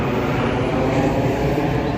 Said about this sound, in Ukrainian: Літак он полетів, дивіться.